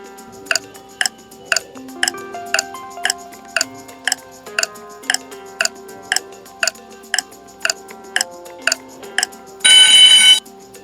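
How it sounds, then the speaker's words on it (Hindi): A 10-second countdown timer for a puzzle, ticking in an even one-per-second rhythm over a light musical bed, ending in a short loud alarm-like burst, with no voices. "इसके लिए आपको 10 सेकंड का टाइमर मिलेगा"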